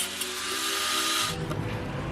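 A power tool whines steadily while cutting an exhaust pipe on a turbocharged Lexus LS400 build, a loud high-pitched buzz that shifts to a rougher, grinding tone partway through, with no talk.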